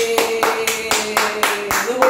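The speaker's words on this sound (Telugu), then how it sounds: "చప్పట్లు కొట్టు." Hands clap in a steady rhythm, about eight sharp claps in two seconds, close and clear, during a baby's play activity, with a faint tone running underneath.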